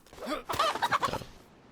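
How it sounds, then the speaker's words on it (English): A chicken in DayZ gives a short burst of clucks, a rising squawk followed by a quick rhythmic run of clucks, close and clear with no talk over it. "So I actually managed to run into another chicken."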